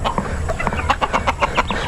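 Backyard hens and a rooster cluck close by in short, repeated bursts with a steady farmyard hum underneath, no talking.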